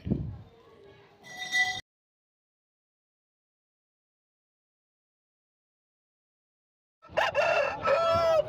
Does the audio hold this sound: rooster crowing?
yes